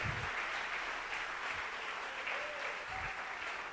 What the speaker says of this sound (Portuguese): Uma salva de palmas bem forte para isso